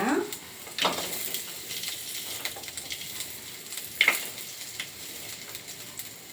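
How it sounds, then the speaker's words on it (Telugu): Spices, ginger and garlic fry lightly in a pan for chicken gravy, a soft steady sizzle with occasional clinks and stirring scrapes, close and fairly quiet. "దీన్ని కొద్దిగా లైట్గా వేయించుకుందాం."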